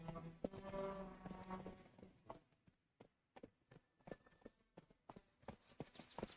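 Roach the horse gallops in The Witcher 3, hooves clopping in a quick uneven rhythm, close and clear, with a rumbling layer early before the hoofbeats stand alone.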